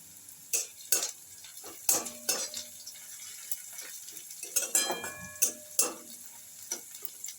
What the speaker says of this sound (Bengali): পেঁয়াজ ভাজা প্রায় হয়ে এসছে।